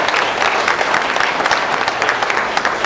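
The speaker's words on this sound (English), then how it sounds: "A round of applause for them," An audience at an evening event for the Agincourt Senior Services Centre applauds the organizing committee members with loud, dense, continuous clapping that holds steady throughout, close and without pause.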